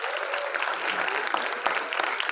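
Audience applauding Nigerian ambassadors at an entrepreneurship event at a Pune institute, a sustained, even roar of clapping from a large crowd in a hall.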